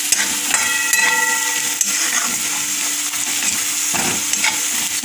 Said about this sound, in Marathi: बटाटे घालून आपण छान असं परतून घेत आहोत